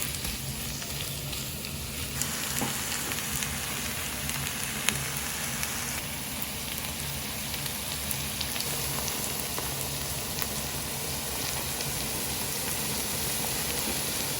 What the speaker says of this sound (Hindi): आपने ऑयल में प्याज डाला, और इन्हें फ्राई करना है थोड़ा सा।